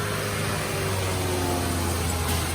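A Suzuki Karimun car engine idles after a cold start, with a steady, loud mechanical hum and a continuous metallic chain-like rattle from the clutch and transmission area, close by and unbroken.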